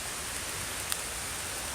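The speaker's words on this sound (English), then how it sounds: "Well, it's raining and I'm out in the woods." Rain falls in the woods during a Michigan whitetail bow hunt. It makes a steady, soft, hissing wash with no single drops standing out.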